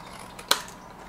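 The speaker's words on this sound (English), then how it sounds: "we're taking our big scissors because that goes faster, and I'm gonna cut just a smidgen inside that line" A single quick snip of big scissors through card paper, one sharp close cut in an otherwise quiet moment.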